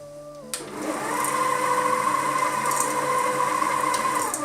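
A Klarstein Bella Rossa TK2 kitchen robot with a 1200 W motor runs at its slowest of six speeds, a steady whirring motor hum that starts abruptly after a brief pause and continues evenly, close and fairly loud, with no talk.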